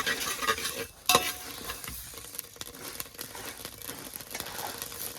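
Vari, barnyard millet, is stirred and fried in a pan, with a steady close sizzle and scraping, rustling stirring strokes, one brief pause near the start.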